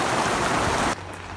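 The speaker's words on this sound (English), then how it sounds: "So now it is really raining, and I do think there's hail" Heavy rain mixed with hail pours down on a sailboat in early May, a loud dense hiss that cuts off abruptly near the end to a quieter steady wash.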